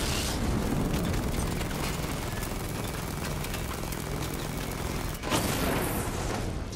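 Sustained turret fire in Batman Arkham Knight, a dense, loud barrage of rapid shots and rumbling blasts that runs nearly continuously, with a brief dip before the roar resumes.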